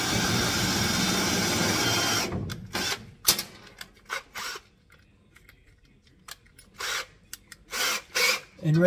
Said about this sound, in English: I'm drilling the floor down first